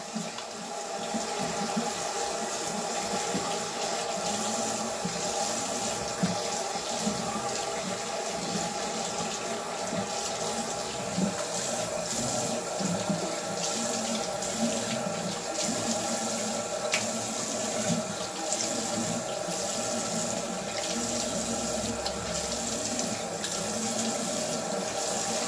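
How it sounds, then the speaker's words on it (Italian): A bathroom tap runs steadily into a sink for the whole stretch while someone rinses their face, with a constant close splashing wash and small shifts as hands cup and spill the water, no talking. "Ora mi sciacquo il viso"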